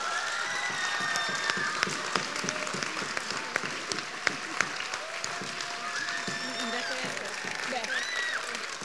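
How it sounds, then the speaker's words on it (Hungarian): An audience at a Hungarian music and dance gala applauds steadily for several seconds, a dense roomful of clapping with some sharper individual claps and a voice speaking over it. "szeretnék egy külön nagy tapsot kérni"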